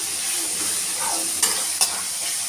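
Ridge gourd sautéing in a pan, a soft continuous sizzle with a couple of sharp stirring scrapes against the pan, close and steady with no talking.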